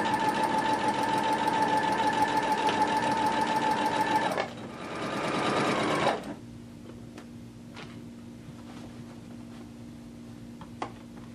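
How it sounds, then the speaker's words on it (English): A sewing machine stitches a 5/8 inch skirt seam, running steadily and loud for about four seconds, then slowing briefly before stopping, leaving a quiet room with a few faint clicks. "So put it at your 5/8 inch mark on your sewing machine. Be sure to back stitch on both the bottom and the top."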